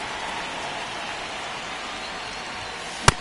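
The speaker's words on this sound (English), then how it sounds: "This rain is not letting up." Steady rain pouring down during a baseball video game, an even hiss of falling rain throughout, broken near the end by a single sharp click.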